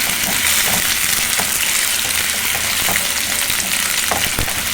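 Thinly sliced potato fries loudly in a pan for sabudana khichdi, a dense, continuous sizzle close by, broken by the scrape and clatter of stirring.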